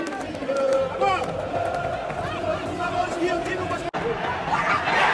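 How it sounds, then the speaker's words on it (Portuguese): An excited football crowd at a Vasco vs Goiás match, a dense, lively mass of chatter, shouts and scattered clapping that swells near the end, with a voice talking over it. "A torcida super empolgada."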